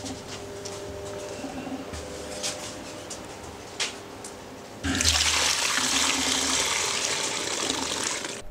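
Water gushes steadily into a rabbit's drinking system as a disinfecting solution is poured in, a soft trickle that turns abruptly into a louder, fuller rush halfway through and keeps going.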